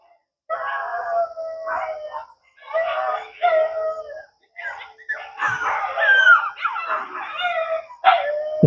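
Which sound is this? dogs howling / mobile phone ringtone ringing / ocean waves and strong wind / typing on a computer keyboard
dogs howling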